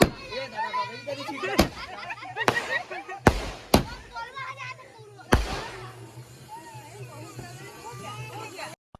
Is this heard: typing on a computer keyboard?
no